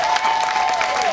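Audience applause at a county government event in Makueni welcoming a speaker, a brief burst of clapping from a crowd with a faint tone beneath.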